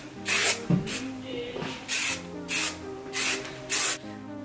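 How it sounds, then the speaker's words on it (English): Hairspray spritzed over freshly curled hair: six short, close hissing bursts in an uneven rhythm, with faint handling noises between them. "then just take my hairspray"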